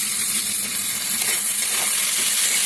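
Washed, soaked dried fish dropped into a turmeric and chilli masala frying in oil, giving a loud, steady, close sizzle that holds evenly with no voices.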